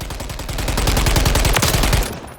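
A SCAR rifle firing 7.62x51mm in Call of Duty Modern Warfare III, a loud, rapid continuous burst of automatic fire lasting about two seconds, then stopping abruptly.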